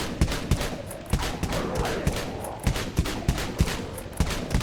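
Bronco guns firing in the Dead Frontier video game, a rapid series of sharp, punchy shots in an irregular rhythm over a constant noisy background.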